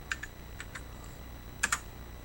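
A few keys are tapped on the keyboard of a Commodore SX-64 portable computer, with scattered sharp clicks including a quick double press, faint against a quiet room hum.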